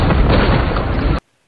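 A cannon fires in The Sea Beast, a 2022 animated film, with a loud, dense, roaring blast that holds steady before cutting abruptly to silence.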